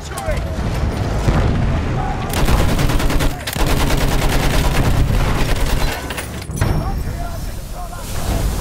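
Machine guns rattle in a desert battle video game, with sustained rapid bursts broken by short pauses, heavy booms underneath and shouted battlefield voices mixed in.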